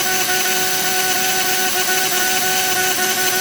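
A DIY mini CNC mill cuts a slot into a model train chassis, giving a steady, loud, high-pitched whine with constant tonal overtones and no pauses.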